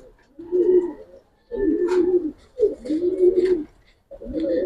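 A young Giribaz pigeon on a pigeon farm coos in four close, distinct low phrases separated by short pauses, loud and clear against a quiet background.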